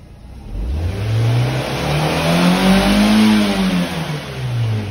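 A Fiat car engine is revved hard toward 6000 RPM, a loud, close mid-pitched roar that climbs and holds steadily for several seconds, with no talking.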